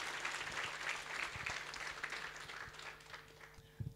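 A church congregation at a healing revival service applauds together in a steady, sustained wash of clapping that sounds somewhat distant, ending with a couple of louder nearby claps.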